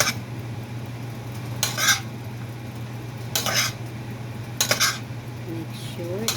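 Bean sprouts being stir-fried in a pan, a utensil scraping and clattering against the metal in four separate bursts over a steady low hum.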